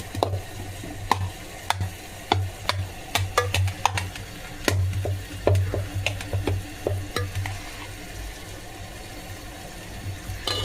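Rice being stirred in a frying pan during breakfast tiffin prep with tomatoes, giving repeated scraping clicks of a spoon over a steady sizzle, close and fairly loud, with no talking.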